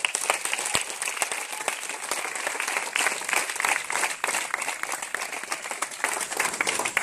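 A church congregation applauds and cheers for Jesus during a deliverance service, dense sustained clapping from many hands filling the room at a steady loud level.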